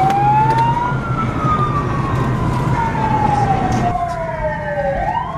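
Wailing sirens of parade vehicles at a European gathering of film star cars rise and fall steadily, loud and nearby, with a second siren tone joining toward the end over a low vehicle rumble.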